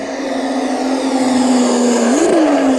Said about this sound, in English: I can hear the car is dying on him.